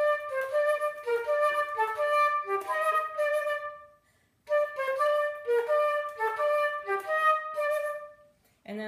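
Two near-identical phrases in short-long rhythm played on a solo melodic instrument, crisp close notes separated by a brief pause, each phrase ending softly.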